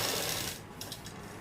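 A sewing machine runs steadily as it stitches a fabric strip onto a dress, a close, continuous mechanical whirring with fast rattling clicks that lighten partway through.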